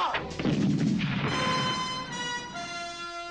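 A tank gun fires in a World War II audio drama, one heavy close boom followed by a long rumbling decay, with a tonal ringing hum underneath.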